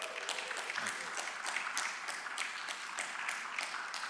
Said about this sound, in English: So can I get a rousing applause